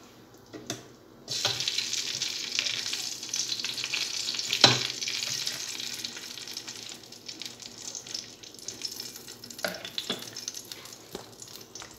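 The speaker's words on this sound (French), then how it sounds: "Voilà, ça commence à bouillir." A pot of water on a stove begins to boil while cooking bolognos meatballs, giving a steady, close hiss with soft bubbling that swells after the first second and runs on alone without speech.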